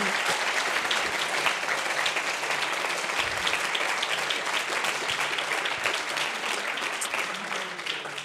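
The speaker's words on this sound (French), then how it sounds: "On peut les applaudir chaleureusement." Audience at a university Ma thèse en 180 secondes final applauds warmly: sustained dense clapping from a large crowd throughout, steady and full, tapering slightly at the end.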